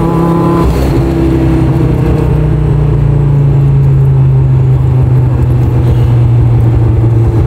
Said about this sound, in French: C'est le flat shift, c'est le flat shift.